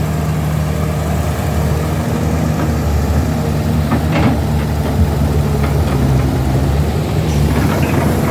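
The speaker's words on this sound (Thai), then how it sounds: "เป็นเครื่องยนต์มิตซูบิชินะครับ" The Mitsubishi 6D34 six-cylinder turbo diesel engine of a Kobelco SK200-6 excavator idles loudly and steadily, a deep rumbling drone with a faint knocking rhythm throughout.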